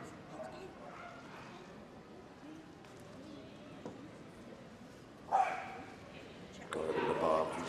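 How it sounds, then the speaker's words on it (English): A medium dog barks at the Crufts agility jumping final in a large arena, sharp barks standing out near the end over constant crowd noise and commentary. "Just sometimes got to let that bark out."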